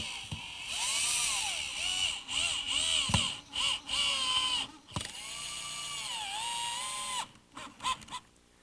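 A power drill bores pilot holes into hard oak in a woodworking shop, the motor whining steadily in several bursts of rising and falling pitch with short pauses between them, close and loud, no talking.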